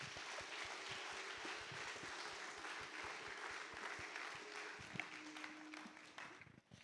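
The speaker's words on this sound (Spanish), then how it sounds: "Dale un fuerte aplauso a Jesús." A church congregation claps for Jesus during a service, steady rhythmic applause that holds at a moderate level before thinning out near the end, with faint voices in the background.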